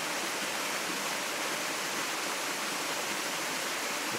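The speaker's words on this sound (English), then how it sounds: "that's the top of the waterfall." A waterfall near Kapiti, New Zealand, sends up a dense, steady broadband roar of falling water, constant and unbroken, with no voices over it.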